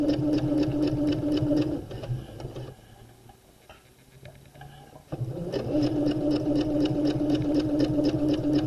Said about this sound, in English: I'm going to sew close to the edge